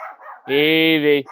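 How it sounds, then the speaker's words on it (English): A dog barks in one long, loud, sustained burst close by, with a person calling out just before and after it. "I'm sure you can hear the dog barking."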